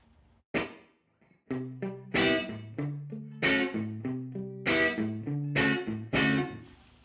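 Guitar through the Stairwell reverb in Native Instruments Guitar Rig 7 plays a series of plucked, slightly driven notes and chords, each attack trailing off into a lingering room-like decay, moderately loud and with no voices.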